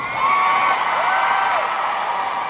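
A crowd of fans screams and whoops at a Disney Legends awards ceremony, a steady roar of high cheering filling the whole stretch without pause.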